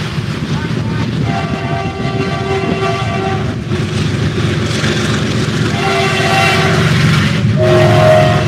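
A train rumbles past close by in rain and wind, wheels clattering steadily, as its horn sounds in several long blasts over the loud continuous roar.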